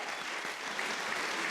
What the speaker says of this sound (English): let's extend another round of applause to our panelists, Secretary Hilda Solis,